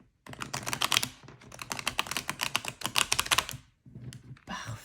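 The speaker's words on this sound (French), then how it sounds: "je vais encore une fois les mélanger façon poker" Oracle cards from the Au Coeur de Soi deck are riffle-shuffled poker style, giving a dense, rapid papery flutter in two long bursts with a short pause between them, close and fairly loud, with no talking.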